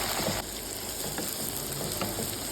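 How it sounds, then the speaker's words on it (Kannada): Onion and capsicum frying in a pan, a steady close sizzle and crackle with a few soft stirring scrapes, no voices. "ಈರುಳ್ಳಿ ಕ್ಯಾಪ್ಸಿಕಮ್ ಎಲ್ಲ ಚೆನ್ನಾಗಿ ಫ್ರೈ ಮಾಡ್ಕೋಬೇಕು."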